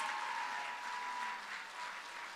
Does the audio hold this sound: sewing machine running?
no